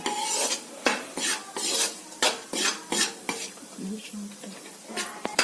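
A spoon stirs maida flour and dry fruits frying in a pan, giving rhythmic scraping strokes against the metal with a soft sizzle underneath, close and steady, with a voice faintly present.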